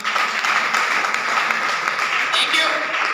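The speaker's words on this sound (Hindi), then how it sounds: "एक बार सर के लिए जोरदार ताली होनी चाहिए" Audience at a business event applauding a speaker, a dense continuous wash of clapping that holds steady and fairly loud for a few seconds.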